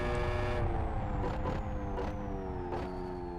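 A video game racing car engine in Live For Speed drones steadily at high revs, its pitch holding and shifting slightly, with a faint high whine gliding downward throughout.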